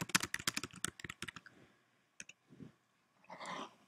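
Typing on a computer keyboard: a rapid burst of close, crisp key clicks that thins out into a few scattered taps, followed by a brief soft rustle.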